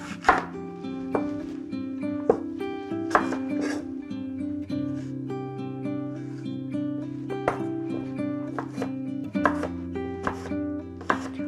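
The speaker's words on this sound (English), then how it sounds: "I'm going to start by chopping up some apples and some pear." A knife chops apples and pear on a cutting board, with a series of sharp, irregular cuts close by over steady background music.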